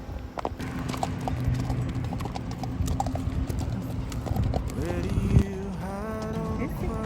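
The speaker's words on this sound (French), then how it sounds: "C'est merveilleux, les balades à cheval." Horse hooves clip-clop steadily in an even walking rhythm on a sunset horseback ride at St Fabien sur mer, close and clear, joined near the end by a brief loud whinny-like sound and a voice.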